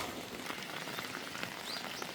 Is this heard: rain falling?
yes